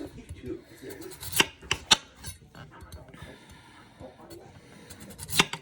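A sharp kitchen knife slices through root vegetables for a roast, with several crisp close cuts and scrapes spread irregularly across the clip over quiet background noise.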